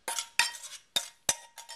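Chunky avocado mash with salsa, citrus and seasonings is folded in a bowl, giving a few sharp, close clinks and scrapes of a utensil against the bowl in an uneven rhythm, with no talk.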